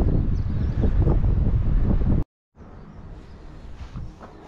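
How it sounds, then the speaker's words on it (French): A gentle coastal breeze buffets the microphone with a steady low rumble and rustle. It breaks off abruptly for a moment, then returns softer and more airy outdoors by the Atlantic shore. "aujourd'hui le vent est très doux, c'est une brise"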